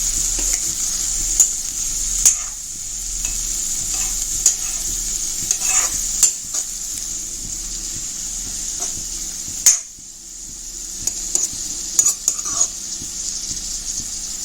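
Khutura greens with pieces of elephant apple cooking in a pan: a steady, close hiss of frying runs throughout, broken by several sharp scrapes and knocks of stirring against the pan.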